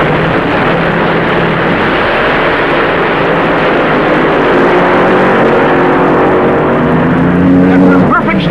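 A loud, sustained 1970s dragster engine roar at full throttle, droning continuously with a rising whine near the end and a voice talking over it.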